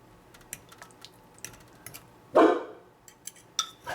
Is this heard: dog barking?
yes